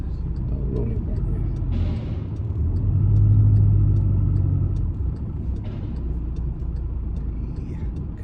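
A car engine idles and rumbles steadily through a driving lesson, a low continuous hum swelling slightly midway, with an instructor talking over it.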